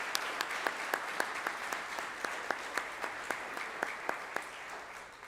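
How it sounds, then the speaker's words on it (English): An audience at a senior recognition night applauds, a steady ongoing clatter of hands with a few sharp, regularly spaced louder claps standing out near the front, fading slightly toward the end. "Please give them a round of applause."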